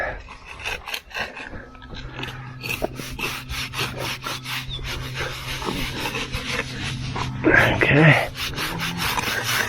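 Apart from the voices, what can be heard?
scraping cream off a board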